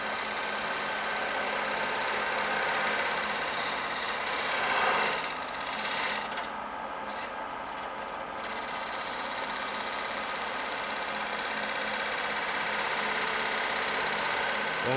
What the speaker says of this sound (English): So I've got my carbide cutter right here, carbide tip, square tip. I just come in just a little bit, go real slow at first.